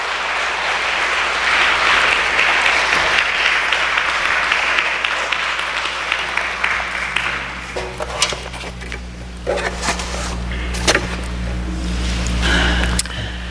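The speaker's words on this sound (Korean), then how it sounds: "환영의 마음을 담아서 함께 우리 목사님 위해서 잠깐 박수해 주시면 좋겠습니다" A church congregation applauds to welcome the pastor, a broad, even clapping that fades midway, leaving scattered claps and room noise over a low steady hum.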